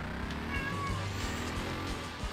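A cat meows indoors during a video game session, its faint calls partly buried under steady game sound and background noise.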